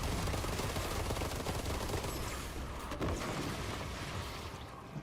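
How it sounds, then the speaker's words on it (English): Assault rifle fire in the video game Armatus rattles in a dense, continuous burst, loud and close, slowly easing off toward the end. "we definitely started with the assault rifle because this SMG is rapid"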